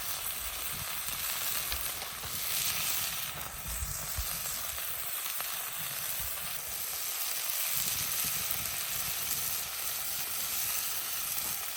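Beef browning in a Dutch oven over a campfire gives a steady, close sizzle and hiss of frying meat that runs unbroken the whole way, with no talking.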